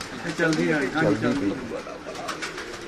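Pigeons coo in soft, rolling phrases on a rooftop while people talk nearby, their voices overlapping the birds throughout the short stretch.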